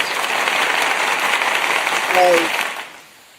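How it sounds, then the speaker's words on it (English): A round of applause from a small group on a football playoff show, a steady wash of clapping that swells briefly, with a short voiced sound near the end, then fades out. "Let's just do a round of applause for both"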